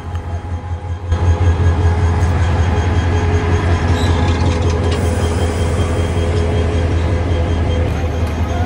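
The Sagorika Express sits during locomotive shunting, a loud steady mechanical rumble and hum with a low drone that swells after a quieter first second and stays constant throughout.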